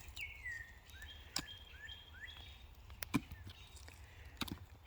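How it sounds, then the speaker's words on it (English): Birds singing on a hot morning around a cabin in the woods, faint scattered chirps and whistled phrases with sharp clicks and cracks mixed in, over a low background rumble. "Birds are singing."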